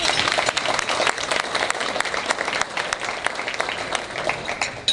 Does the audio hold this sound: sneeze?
no